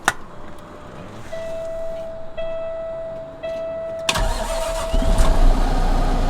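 A fire department tender's engine cranks and catches after a steady electronic tone, then settles into a loud, rumbling idle close by, with no talking.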